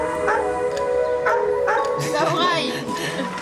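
A dog gives a few short, close barks and yips with a whining, howl-like edge, over steady background noise and voices talking.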